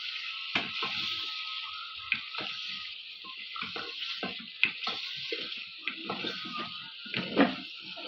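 Spices and ginger garlic paste fry in a pan with a steady, close hiss, broken by frequent crackling pops and the scrape and clack of stirring.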